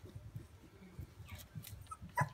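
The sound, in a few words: Goldendoodle puppies barking and whimpering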